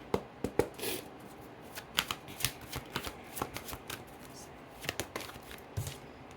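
Tarot cards being shuffled and drawn by hand: a close run of quick papery riffles and crisp flicks, with sharp slaps where cards land, soft and up close, no talk over it.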